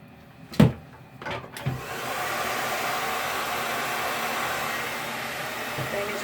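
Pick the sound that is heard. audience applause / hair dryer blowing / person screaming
hair dryer blowing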